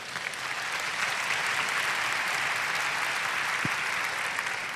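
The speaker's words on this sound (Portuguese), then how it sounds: "E eu notei que os aplausos foram mais fracos." A large audience applauds at a talk by Padre Fábio de Melo, a steady, fairly soft wash of clapping that holds evenly throughout with no voices over it.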